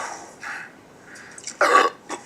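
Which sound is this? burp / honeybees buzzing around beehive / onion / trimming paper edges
burp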